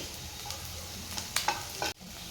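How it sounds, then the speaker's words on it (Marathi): Chopped onion fries in hot oil in a pan, a steady soft sizzle with a few sharper stirring scrapes near the end, close and alone. "त्यानंतर कांदा सुद्धा तेलामध्ये छान परतून घेणार आहे"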